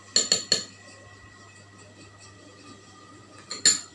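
A metal spoon clinks sharply three times in quick succession near a medium plastic bottle on a lab bench, then two more clinks come near the end after a quiet pause.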